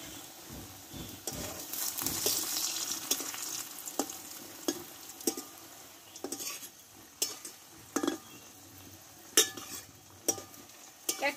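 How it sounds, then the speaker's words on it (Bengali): Potato and flour pieces fry in hot oil, a steady close sizzle broken by frequent clinks and scrapes of a utensil against the pan. "বাকিগুলো আমি এই তেলেই ভেজে নেব।"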